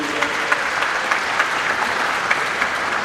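A graduation ceremony audience gives a steady round of applause, dense crowd clapping that holds at an even level for the whole stretch with no pauses.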